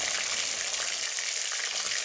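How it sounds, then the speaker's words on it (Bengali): Pabda fish frying in hot mustard oil in a kadai, giving a steady, dense sizzle that stays loud and even throughout with no voices. "একটি কড়াইতে পরিমাণ মতো সরিষার তেল দিয়ে মাছগুলো একটা একটা করে ভাজার জন্য দিয়ে দেব।"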